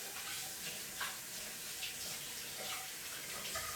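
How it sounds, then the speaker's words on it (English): Hands are rinsed under a running kitchen sink tap, a steady close splashing rush of water with small irregular surges as the hands move through the stream. "Let me rinse my hands off here"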